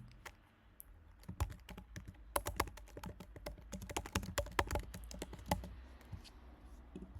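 Close, quiet typing on a computer keyboard while HTML code is entered, with irregular rapid key clicks in short bursts and a few brief pauses, and no voice.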